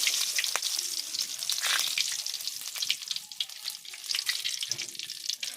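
Fennel seeds and curry leaves crackle in hot oil over a wood-fired village stove, producing a bright, busy, continuous sizzle with popping bursts, close and fairly strong, with no talking.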